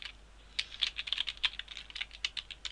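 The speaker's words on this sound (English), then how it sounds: "we're going to press enter and we're going to type if game object.find misc scripts" Quiet, close keystrokes on a computer keyboard while code is entered for a Unity 3D game tutorial, arriving as an uneven run of roughly a dozen light clicks with brief pauses between bursts.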